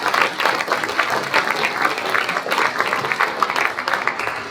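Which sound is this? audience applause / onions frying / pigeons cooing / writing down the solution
audience applause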